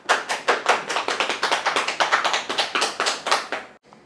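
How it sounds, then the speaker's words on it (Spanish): A small group claps steadily for several seconds, the sharp hand claps close and evenly paced before stopping abruptly. "Aplauso para Wiz."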